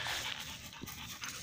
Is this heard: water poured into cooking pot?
no